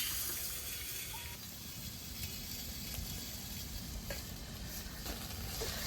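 Coriander leaves fry in a pan for a Bangladeshi khuder bhat and vorta meal, a steady close sizzle and crackle running evenly throughout with faint scraping of stirring.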